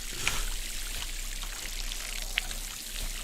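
Fishing splash effect from the indie game We Harvest Shadows, a loud steady watery pouring and trickling wash with two brief bright splashy clicks, no talking.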